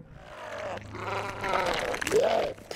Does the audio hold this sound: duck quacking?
no